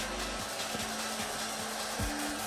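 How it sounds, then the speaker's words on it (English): Steady whooshing hot-air blast from a heat gun warming vinyl wrap on the roof of a BMW E46, a continuous airy hiss with a low hum and faint intermittent clicks, close and constant throughout. "I'm applying heat and making sure it just goes over the edge nice and smooth"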